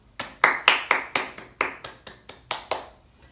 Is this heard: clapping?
yes